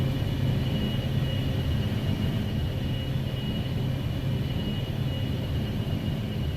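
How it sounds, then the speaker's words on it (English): A Gulfstream 550 business jet cruising in the X-Plane 12 flight simulator, a loud, steady engine and airflow drone with a faint high whine that holds unchanged throughout, with no voices. "the plane is so loud"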